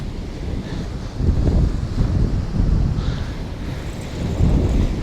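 Gusty wind at a winter fishing spot buffets the microphone with a steady, loud low rumble that swells in strong gusts, with no talking.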